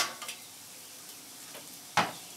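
Vegetables for a grilled pork loin meal are tossed onto a hot cooking surface, producing a faint sizzle with a few light clatters and one sharp metallic clank near the end.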